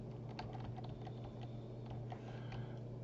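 Steady typing on a computer keyboard, a run of quick, irregular key clicks at close range over a constant low hum, with no talking.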